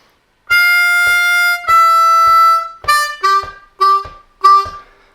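A C harmonica plays the opening lick of a song beginning on the 5 draw: two sustained reedy notes followed by four shorter, punchy notes, close and solo with no talking.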